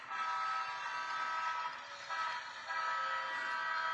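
An HO scale model Alco locomotive horn sounds through a sound decoder's small speaker, a sustained multi-tone toot holding steadily for several seconds at moderate level, with no talking.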